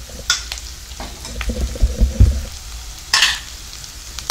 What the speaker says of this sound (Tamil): பச்சை மிளகாய், கருவேப்பிலை சேர்த்துக்கலாம். எல்லாம் போட்டு நல்லா வதக்கியாச்சு.